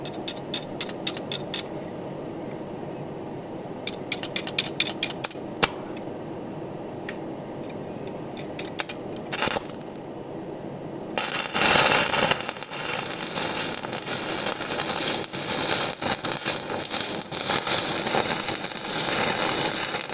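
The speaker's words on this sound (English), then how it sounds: "Welder's on." Arc welding on a seized Ferris IS3000 mower blade: quiet scattered ticks and clicks at first, then a loud, continuous crackling hiss starts about halfway and holds steady to the end.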